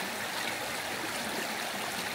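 A creek flowing a few feet below a log crossing on a forest trail, heard as a steady, soft, even rush of running water with no breaks.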